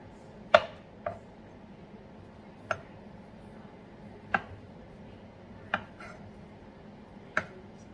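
Fresh slippery jack mushrooms sliced with a knife for soup, six sharp, separate cuts on a board, close and fairly crisp, spaced irregularly over a quiet room background.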